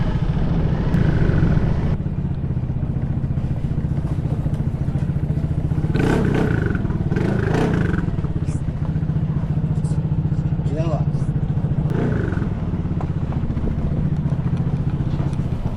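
A motorcycle engine runs steadily with a low continuous rumble close by, while people talk over it and things clatter.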